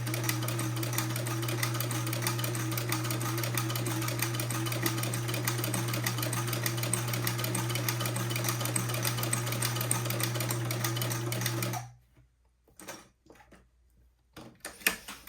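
Sewing machine stitching 3/8 inch buttonholes, running at a steady fast drone for about twelve seconds before stopping abruptly, followed by faint clicks and handling noise.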